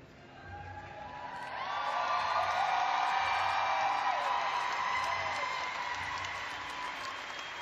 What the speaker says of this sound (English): Fantastic crowd, fantastic atmosphere.